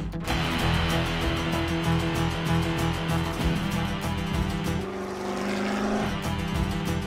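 A race car engine roars steadily through a film scene, a loud continuous droning growl layered with music that sits in the same key, with no talking.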